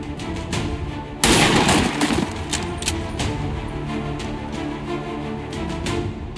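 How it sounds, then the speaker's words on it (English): Rapid bursts of gunfire from the XCOM 2 strategy game, a loud volley starting about a second in over a dense, steady battle backdrop of further shots and effects. "I'm under fire!"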